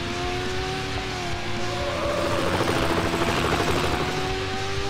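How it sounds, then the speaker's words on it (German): A police helicopter in the racing game Need for Speed Hot Pursuit 2, with its steady rotor drone mixed with car engine noise and faint tire squeal throughout. "Hubschrauber ist unterwegs."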